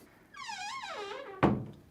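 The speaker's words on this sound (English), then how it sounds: "I just had to close the wardrobe behind us" A wardrobe door in a hotel suite swings shut against its magnetic catch, giving one solid thunk near the end. A squeaky, tonal sweep runs just before it, with some creak or rattle following briefly.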